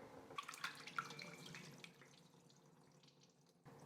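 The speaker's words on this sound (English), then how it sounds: "You can hear a lot of the liquid that is going into the sink." Whey from cheese curds for a homemade triple cream cheese draining through a cloth-lined strainer into a sink, a faint steady trickle and splash that fades toward the end.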